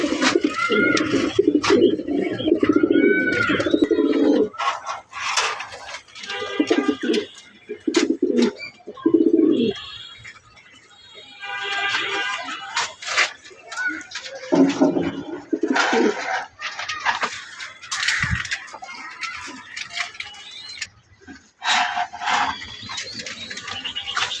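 Racing pigeons coo in repeated throaty rolls close by, each burst followed by short pauses, with occasional faint chirps and rustles around them.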